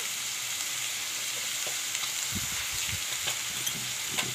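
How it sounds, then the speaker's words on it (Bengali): Onions frying in a pan for a dried fish chutney, a steady moderate sizzle with soft low knocks and stirring movements in the second half, no voices. "পেঁয়াজগুলো অল্প আমি আগে ভাজবো"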